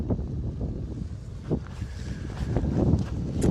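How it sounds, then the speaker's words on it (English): Wind blows steadily at a desert camp in Oman, a close rumbling gusty roar buffeting the microphone with occasional louder surges. "It's a little bit windy tonight"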